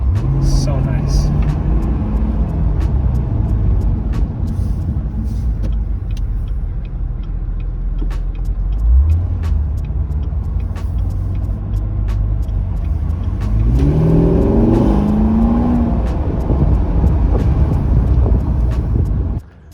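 A Chevrolet Corvette C7 convertible drives with the top down, its engine giving a steady, close rumble that swells louder toward the end as it accelerates.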